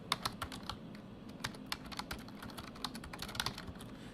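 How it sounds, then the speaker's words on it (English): Rapid, uneven keystrokes on a computer keyboard, close and quiet, as someone types script for an E-Prime 3 experiment using analog input on Chronos; no voices. "I am just going to start typing some script"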